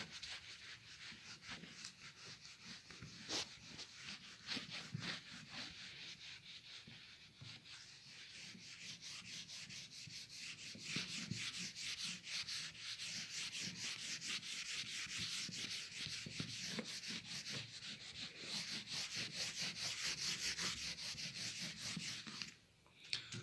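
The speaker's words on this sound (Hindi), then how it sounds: "तो पहले मैं इसको रब कर लेता हूँ यहाँ पे।" A classroom board is rubbed clean before a trigonometry exercise, giving a steady, continuous scrubbing and wiping sound with long strokes that run for over twenty seconds, close by and without talk.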